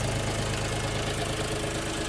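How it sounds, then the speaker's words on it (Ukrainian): A LOVOL FOTON 244 tractor's 24-horsepower engine runs steadily at idle, a close, constant mechanical drone with a fast knocking pulse and no gaps. "Одразу демонструю вам, щоб ви почули звук роботи двигуна."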